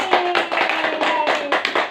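Third-grade pupils in a classroom clap for a classmate, a dense, loud round of hand claps pulsing in quick uneven waves, close and without speech.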